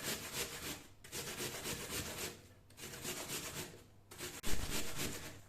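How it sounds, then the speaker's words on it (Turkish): Peeled apples being grated on the large side of a hand grater for an apple cinnamon cake, a steady close rasping scrape in repeated strokes with brief pauses between passes. "Soyduğumuz elmalarımızı rendemizin büyük tarafıyla rendeleyelim."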